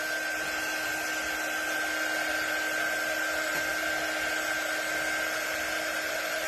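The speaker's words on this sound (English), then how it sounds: "Let me dry this really quick, and then we'll touch that up." A dryer blows paint dry on a painted gnome door hanger, producing a constant steady whir with a thin tonal whine, evenly loud throughout with no talk.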